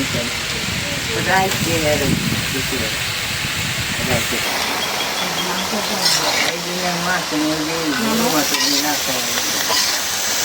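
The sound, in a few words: sautéing ridge gourd and Malabar spinach in oil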